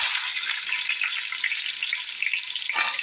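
Small shallots, crushed by hand, drop into a pan of frying chicken roast, setting off a bright, dense hiss of sizzling oil that holds steady for a few seconds with a faint rattle near the end.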